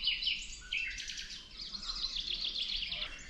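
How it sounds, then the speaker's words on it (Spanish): Small birds chirp and twitter at quiet church ruins in Croatia, a busy stream of high, bright calls that carries on throughout over a faint, hushed background. "se escuchan los pajaritos."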